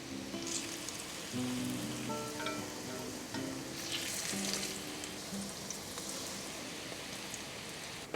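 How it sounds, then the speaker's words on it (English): Zucchini fritters fry steadily in a pan, a continuous dense sizzle and crackle with soft spatters, close and even throughout with no voices. "finish frying off the remaining fritter batter"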